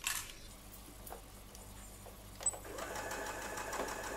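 A sewing machine stitches around the neckline of a handmade jumpsuit, running with a steady close mechanical whir, quiet at first and then louder and faster after a brief click.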